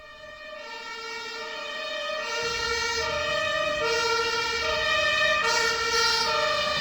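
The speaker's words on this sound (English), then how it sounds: "it's a European ambulance" A European two-tone ambulance siren wails in steady alternating pitches, swelling louder as it draws nearer, with traffic rumble underneath.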